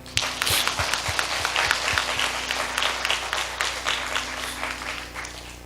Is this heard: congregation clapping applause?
yes